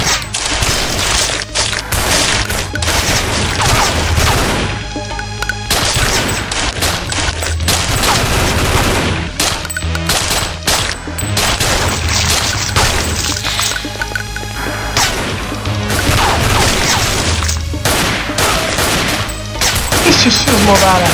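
Continuous dense gunfire fills the flash video game Thing Thing Arena, with overlapping shots and crackling impacts layered over game music, loud and unbroken throughout.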